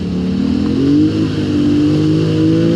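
A Polaris Sportsman ATV on high lifter tires revs hard in mud, its steady mid-pitched engine drone rising and swelling close by with no voices.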